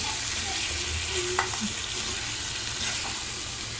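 Chicken frying and being stirred in a pan, a steady broadband sizzle running throughout with a few soft scrapes of a spoon over it, close and continuous with no talking.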